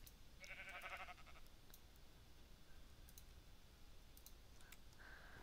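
A flaming sheep in the video game New World bleating briefly and faintly, with soft clicks and a steady background hiss.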